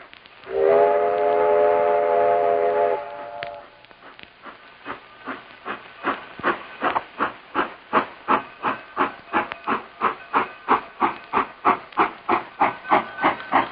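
A steam whistle blows for a few seconds, then a locomotive chuffs in quick, evenly spaced bursts that build and speed up, at the Six Gun Territory theme park in 1965.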